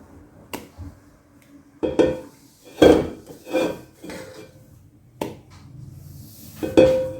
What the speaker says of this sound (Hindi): ये जो क्रीम अभी हमने व्हिप की है ये इसमें मिक्स कर देते हैं।